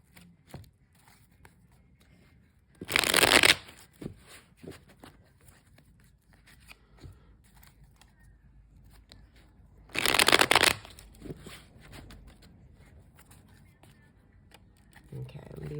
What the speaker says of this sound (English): I will shuffle just a few more times,